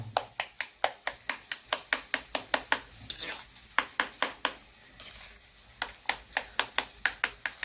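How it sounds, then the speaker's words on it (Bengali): Rapid, steady knife chops on a board as roasted eggplant is cut into pieces for bharta, a close run of crisp regular strikes with a brief pause midway, then more chopping. "পিস পিস করে নেবো যাতে কড়াইতে দিতে সুবিধা হয়"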